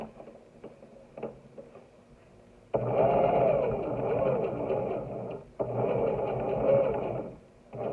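A sewing machine stitches through felt while sewing a small Santa sack, running in two sustained whirring bursts with a short pause between, preceded by lighter ticking and handling sounds.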